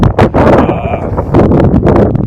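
Strong, gusty wind buffets the microphone in loud, uneven rushes of low rumble at the Hanle Observatory in Ladakh, with a faint voice mixed in.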